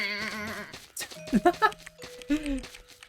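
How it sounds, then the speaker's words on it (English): Sheep in a video game set in a frozen wasteland bleat in a few short tonal calls over a steady game music backdrop, fairly close and clear. "I must feed the sheep."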